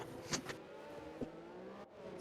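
Formula 1 cars racing around the Azerbaijan Grand Prix street circuit in a racing game, engines droning and shifting pitch as they run through the castle section, a couple of brief knocks over the steady whine.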